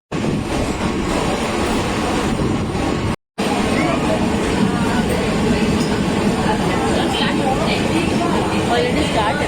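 A slow local train to Titwala rumbles steadily and loudly from inside the carriage, a continuous roar of wheels and motion with a short gap partway through.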